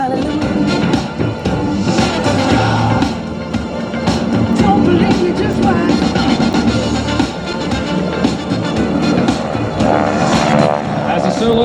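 SNJ propeller aircraft flying in formation at an air show roar continuously in a dense, loud engine drone. A commentator talks over the engines throughout.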